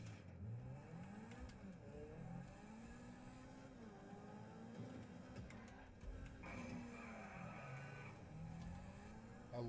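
A car engine in a racing-style video game hums and revs steadily, pitch rising and falling through gear changes, with a brighter higher-pitched whine near the end, moderately quiet and with no talking.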